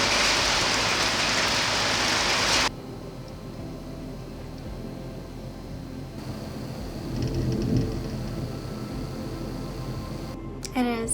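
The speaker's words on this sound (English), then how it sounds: "It is storming really bad outside right now, but we need it." Heavy storm rain pours steadily outside as a loud, dense hiss for the first few seconds, then falls quieter and more distant, continuing as a soft steady wash to the end.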